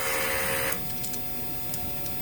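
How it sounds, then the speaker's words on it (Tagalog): A DTF printer runs a strong print-head cleaning cycle: a loud steady mechanical whir for the first moment, then quieter pump and motor sounds with brief clicks and ticks, alone with no talk. "Mag head clean tayo, clean, strong heads."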